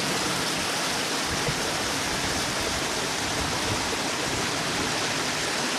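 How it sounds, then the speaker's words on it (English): A mountain stream of sweet water in the South Pennines, near Crowden on a Black Hill round, rushes steadily and close by, its dense broadband wash unbroken and alone for the whole stretch. "I know the stream that runs this sweet water, one of the few in the whole of the South Pennines."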